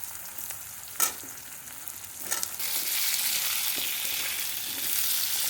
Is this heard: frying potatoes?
yes